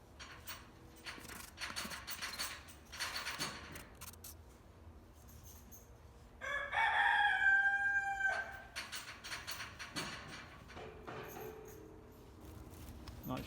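A rooster crows loudly and close by, a single long call with strained harmonic tones, rising out of a steady background of mechanical clicking and workshop noise.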